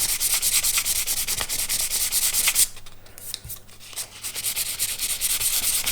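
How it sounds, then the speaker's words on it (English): Steady, close hand sanding of paint on a wooden ship model with fine sandpaper, a rhythmic rasping rub with a brief pause midway before the strokes resume, no voices. "sanding witness, and we can gently rub that down"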